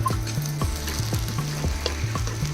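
Ginger-garlic paste frying with onions in oil for a pond-fish tamarind curry, a continuous sizzle broken by rhythmic scraping strokes of a spoon against the pan, close and steady with no talk.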